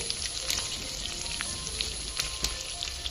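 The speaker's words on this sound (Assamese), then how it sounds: "এইকেইটা এতিয়া মই মছলাবিলাক ইয়াত দি দিম। দি লৈ এতিয়া এয়া অলপ সময় ভাজিম।" Cumin and coriander spices fry in a pan for a village-style Assamese chicken curry, giving a close, steady sizzle broken by sharp crackles and pops.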